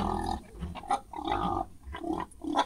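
A large 100 kg pig grunting repeatedly in a series of close, loud, rough grunts and snorts, with no talk over it.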